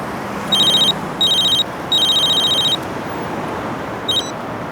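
A telephone rings loudly and close in a bright electronic trill, sounding in three long bursts with short gaps and then a brief fourth chirp over a steady background hiss.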